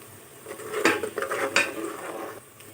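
Garlic is added to onions that have turned light pink while frying in a pan for mash dal, giving a few clattering utensil knocks and stirring scrapes over a low sizzle, with no talking.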